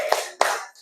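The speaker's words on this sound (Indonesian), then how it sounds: "Untuk sekali lagi kita tepuk wow." Two sharp claps about a third of a second apart, close and fairly loud, from a class clap-along cheer game in an Indonesian school lesson.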